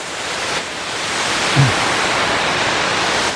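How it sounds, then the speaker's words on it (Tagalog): Water from the Bumbungan River in Laguna pours down onto a road like a waterfall, a steady broadband rush of falling water holding constant throughout, with one brief low thump partway in. "So nagmimistulang waterfalls yung tubig na bumabagsak dito"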